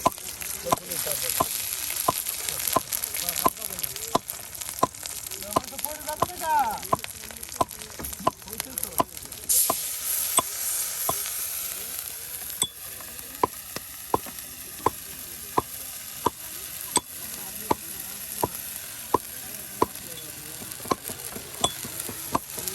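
Ginger and garlic paste fry together in a pan beside a river, sizzling steadily while a spoon scrapes and taps the pan in a regular rhythm.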